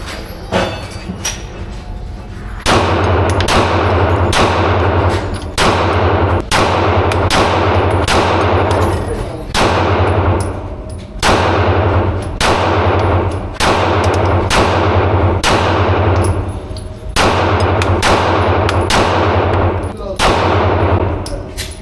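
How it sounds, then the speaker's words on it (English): Rapid gunfire from a Glock 19X pistol with a 17-round magazine, loud and close, in several dense bursts of quick successive shots separated by short pauses. "Another 17 round mag. G19X."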